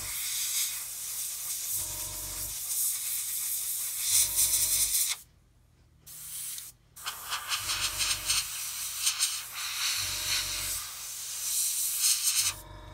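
An airbrush lays a light dust coat of paint on a model figure, giving steady close hissing bursts of spray that stop and restart several times, with a couple of short silent gaps and no talk.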